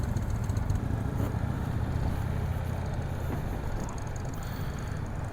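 A brand-new 2024 Indian Scout 101 1250 motorcycle engine drones steadily while riding at low speed, a continuous close rumble with no talk over it.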